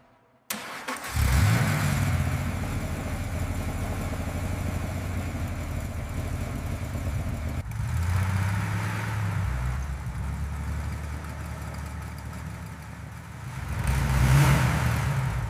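A fully restored Jaguar XKSS engine turns over and catches, then runs at a steady rumbling idle up close, with a couple of swelling revs partway through and again near the end.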